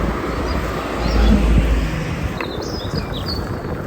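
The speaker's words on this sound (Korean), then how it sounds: "새소리도 좋고." Faint bird chirps sound in the distance over a steady rumble of wind and outdoor noise during an early-morning ride on a shared e-bike, with a few brief high calls toward the end.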